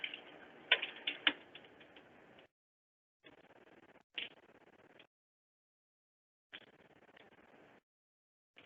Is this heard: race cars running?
no